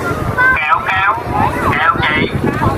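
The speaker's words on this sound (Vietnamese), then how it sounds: "Có gió rồi, gió rồi, chiều nay gió bắt đầu." Wind gusts across an open kite-flying field in District 12, buffeting the microphone with a loud, steady rumble while someone talks over it throughout.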